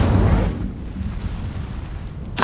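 A fire spell effect bursts as a deep, loud explosive boom that rumbles at the start and fades over a couple of seconds, with a brief sharp burst at the end and no talking.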